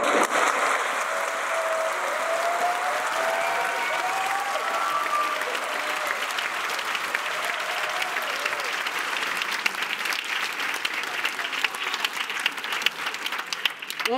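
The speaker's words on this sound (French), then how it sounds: "On peut les applaudir bien fort" A crowd at an evening showcase event applauds steadily for a full stretch, a continuous wash of many hands clapping at moderate loudness, building slightly toward the end.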